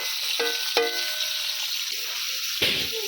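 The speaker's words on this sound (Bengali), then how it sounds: "এবারে পনিরগুলো আমি হালকা করে তেলেতে ভেজে নেব" Paneer pieces lightly frying in hot oil in a kadai give a steady close sizzle, broken by a few sharp stirring clinks and scrapes.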